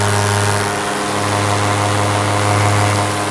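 A paramotor engine runs at full throttle during a fast climb under a Hadron 3 wing, a loud, steady low drone with propeller buzz that holds without a break.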